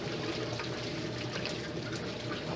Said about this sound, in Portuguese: Na verdade, já tá lavando lá, batendo na máquina.